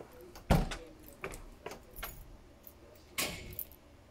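A door handle is worked and a door swings open and shut on entering a building at evening, giving a sharp close thud followed by several lighter knocks and rattles, with no talk.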